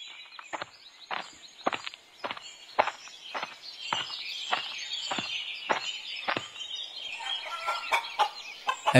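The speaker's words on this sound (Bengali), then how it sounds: "বাবা, তোমার খামারে তো দেখছি অনেক মুরগি।" Animated farm scene with chickens, a rapid series of sharp clucks and pecking clicks repeating about twice a second, close and lively, with a brighter flurry of calls near the end.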